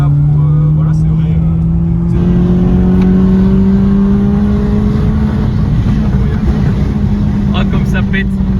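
A Peugeot 106 S16 with a 140 hp engine accelerates hard, its loud, close engine note climbing steadily in pitch through the gears while people talk over it.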